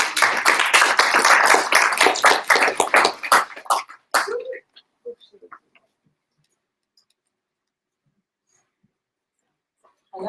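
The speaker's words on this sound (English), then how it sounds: "Give her a clap." Union meeting audience clapping for a speaker, a dense burst of many hands lasting about four seconds before cutting off into near silence, with a brief sound at the very end.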